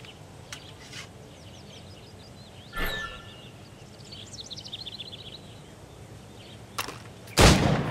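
Gunshots fired at targets during a training sequence in Assassin's Creed: a few sharp, loud cracks spaced several seconds apart, the last the strongest, over a quiet outdoor backdrop of chirping birds and insects.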